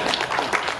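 Scattered clapping from a small part of the audience at a Tamil speech, uneven and thin, with a faint voice underneath.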